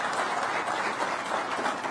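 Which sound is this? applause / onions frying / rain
applause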